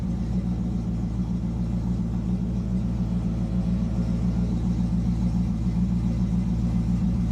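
Steady low rumble of a HEMI V8 engine swapped into a Jeep Renegade, idling evenly and continuously at moderate loudness with no talk.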